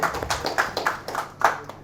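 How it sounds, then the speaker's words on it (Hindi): Brief, steady clapping from an audience at a comedy show, quick overlapping claps at moderate volume with no talking. "मैडम के लिए एक जोरदार तालियां बजा दीजिए"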